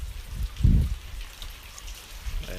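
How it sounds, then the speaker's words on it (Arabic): Rain falls steadily outdoors during a goose hunting trip in Romania, a soft continuous hiss of drops with a brief louder low thump near the start and no voices. "الدنيا مطر مطر"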